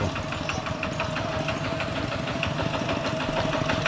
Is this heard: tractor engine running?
yes